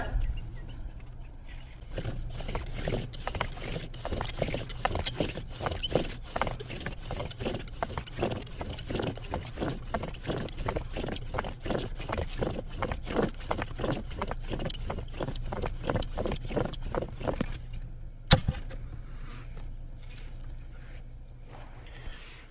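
Bow drill spindle spun against a fire board for a first burn-in, a rapid, even back-and-forth rasping squeak repeating for about fifteen seconds before stopping, close and fairly loud.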